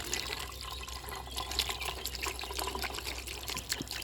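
Water runs and splashes steadily as freshly caught tadpoles are rinsed clean, a continuous close trickling and sloshing at low level with no talk over it.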